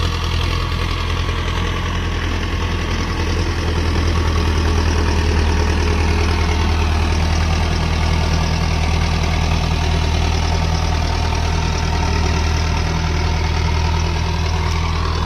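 A tractor engine with a slipping clutch idles steadily and loudly up close, a continuous low knocking chug that holds for the whole stretch.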